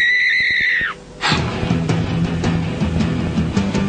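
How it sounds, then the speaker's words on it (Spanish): A person screams in a 1990 TV drama, a long shrill cry trailing downward that breaks off abruptly, followed by a muffled rumbling background. "Alguien grita."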